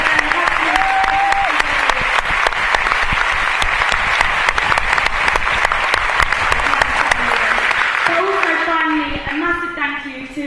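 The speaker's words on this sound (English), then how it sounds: "I'd also like to give them a round of applause." Applause from an audience at a closing rally: loud, sustained clapping from a crowd that runs evenly for about eight seconds, then thins out as a voice begins talking over the last stretch.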